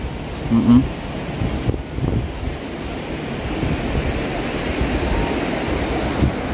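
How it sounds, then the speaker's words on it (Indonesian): A strong river current, the Cihonje, rushes beneath a bridge in a rural area: a dense, continuous roar of water, loud and steady throughout, with a few faint bumps near the start. "untuk arusnya sendiri sahabat sangat lumayan ataupun sangat deras ya"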